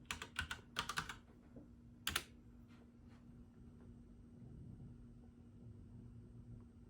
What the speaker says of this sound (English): now we can type our password here